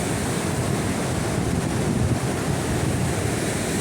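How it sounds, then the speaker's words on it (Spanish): Rough sea at Barbate, with heavy surf breaking on the shore as a steady, loud, continuous roar, mixed with wind buffeting the microphone. "Hoy, como podéis comprobar, el mar está bastante agitado."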